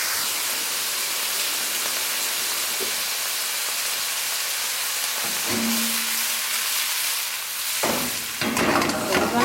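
Half a large onion and two chopped plum tomatoes sauté in a pan, giving a continuous close hiss of frying with a few clanks and scrapes toward the end.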